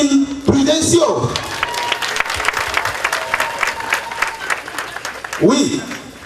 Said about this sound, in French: vos applaudissements spontanés et nourris témoignent sans nul doute de la valeur intrinsèque de cette brave dame